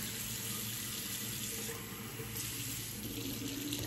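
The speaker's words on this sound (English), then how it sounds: "So I'm gonna add some more water" Water runs steadily from a tap in a continuous broadband rush, close by, with a faint low hum beneath and no talking.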